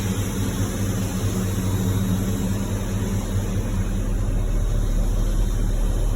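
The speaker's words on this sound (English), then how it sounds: "I'm sure you can hear that fuel pump sitting there winding real loud" Electric fuel pump in an LS-swapped car whining loudly and continuously, a steady high-pitched drone over a low rumbling hum, unbroken and close with no talk.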